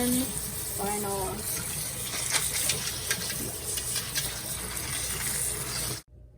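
Dry beans being washed in water, with running water splashing and swishing steadily in a sink under a person talking, ending abruptly.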